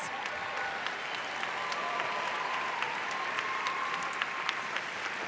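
An audience at a high school graduation ceremony in a large arena claps steadily, a dense, fairly distant wash of applause sustained throughout without pause.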